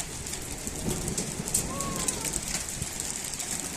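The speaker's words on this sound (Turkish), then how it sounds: "Yasemin Lima bir anda nasıl yağmaya başladı değil mi?" Heavy rain and hail pour steadily with a dense hiss, and faint voices murmur beneath it.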